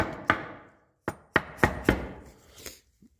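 Several sharp, loud hammer blows land one at a time at an uneven pace while working on a DD15 truck engine, each ringing briefly before dying away, with short pauses between.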